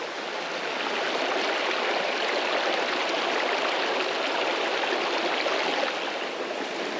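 A creek flows past a shaded camp spot under big cedars, a steady, close, broadband rush of running water that stays even throughout with no voices.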